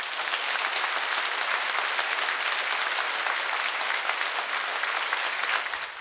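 Sustained, dense applause from a large audience at a church leadership inauguration ceremony, steady and loud for the whole stretch, tapering slightly at the end.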